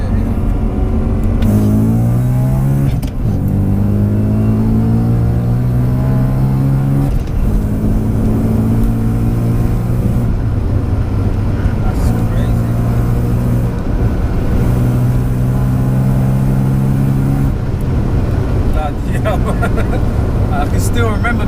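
A supercharged 650 bhp BMW M3 engine pulls hard through the gears, its pitch rising repeatedly with each surge, loud and close throughout.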